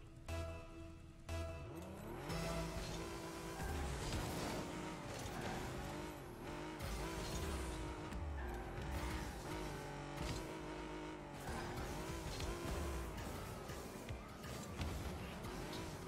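Cyclone car racing in a video game, engine droning loudly and steadily with tire squeals and skids layered over a continuous game soundtrack for the whole stretch, no talking.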